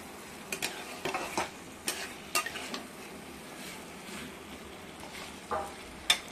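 Food fries in oil in a partly covered pan, a soft, quiet sizzle running throughout, broken by occasional light stirring scrapes and utensil taps.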